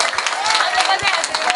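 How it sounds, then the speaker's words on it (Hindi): Applause and clapping from a workshop audience, a dense, steady patter of many hands filling the room throughout with crowd noise mixed in. "जोरदार तालियां"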